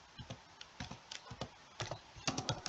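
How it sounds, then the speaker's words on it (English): Someone types a web address on a computer keyboard, a close, quiet run of quick, uneven key taps in short bursts. "Now what you have to do is simply type in"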